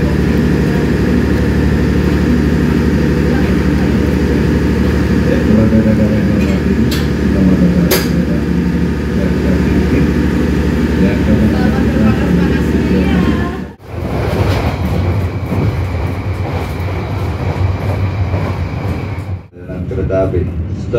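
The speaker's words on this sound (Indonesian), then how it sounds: "Kereta api lokal Walhar Express diberangkatkan kembali dari stasiun Cikarang." The Walhar Express local train pulls away from Cikarang station with a steady low rumble and rolling noise, sound shifting sharply near the end, while a voice talks over it.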